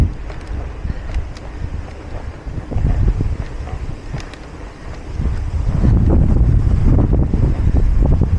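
Wind at a windmill farm in Pililla buffets the microphone in gusty rumbles, growing stronger and louder toward the end, with no voices.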